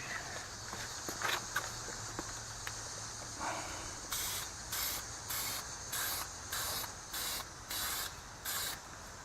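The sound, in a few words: spray painting brake calipers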